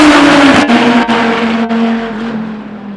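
A Dodge Viper with a 9.1-litre engine making 830 wheel horsepower snarls loudly up close, its deep, steady engine note broken by a few quick dips before it eases off and fades.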